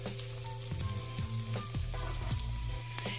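Food searing in a hot pan gives a steady sizzle, with occasional scrapes and clinks of a utensil moving the pieces, close and fairly loud with no talking.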